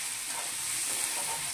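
A tempering sizzles in a pan while cooking a coconut-chili brinjal fry, a steady, bright hiss of hot oil with faint stirring, close and continuous without speech.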